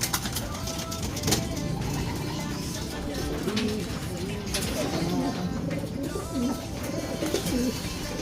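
Racing pigeons cooing inside an aluminum training box, soft repeated coos over steady background noise, with someone talking nearby.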